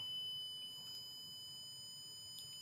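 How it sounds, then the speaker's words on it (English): A home security alarm triggered by a drawer being opened sounds as a steady, high electronic tone, continuous and fairly faint, with no voices present. "it's then giving me my starburst design and the alarm's going off"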